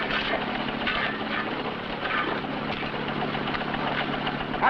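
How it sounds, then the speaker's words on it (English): A motor engine runs steadily at a rocky well site at night, with a constant low droning rumble and faint rhythmic knocking throughout, fairly distant and without talk. "Cut that engine."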